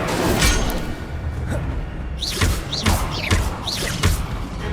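Incendio fire spell in Hogwarts Legacy, a roaring blast of flames with whooshing bursts and thuds layered over ongoing combat noise.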